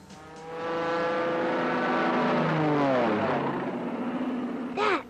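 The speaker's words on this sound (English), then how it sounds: "has an airplane fly over the field and drop the rice right into the water" A propeller plane seeding a rice field swells in engine drone as it approaches, then drops in pitch as it passes overhead and begins to fade.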